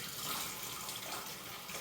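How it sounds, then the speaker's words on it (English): Running tap water rinses a freshly butchered turkey, a steady close splashing hiss that continues without a break. "Another rinse."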